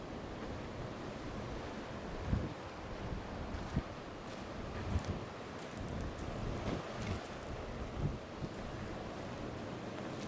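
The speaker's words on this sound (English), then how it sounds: "That wind is a gusting." Strong gusty wind roars around an abandoned satellite station tower in the Nevada desert, a steady rushing buffet with heavier thumps of gusts hitting the microphone.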